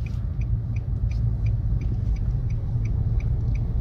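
A car reverses slowly in a mall parking lot, heard as a low, steady engine rumble with a faint repeating high tick throughout.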